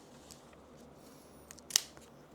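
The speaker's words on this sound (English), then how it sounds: "we're going to just snip into our seams. I might need my sharper scissors." Sharp scissors snip into the seams and interfacing of a fabric bag, giving one crisp close cut with a faint softer snip before it over a quiet room hiss.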